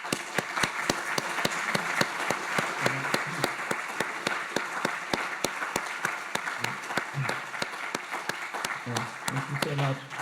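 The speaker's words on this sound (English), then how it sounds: "I think we can greet Professor Aghion with a round of applause" An audience at a special lecture applauds Nobel Prize winner Professor Aghion, with steady, moderately faint clapping carrying on for about ten seconds while a voice talks over it.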